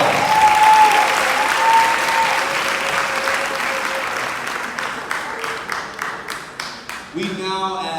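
An audience applauds at an annual Alpha Beautillion ceremony: dense clapping with faint whistles at first, thinning into scattered individual claps, then voices and crowd chatter rise at the end.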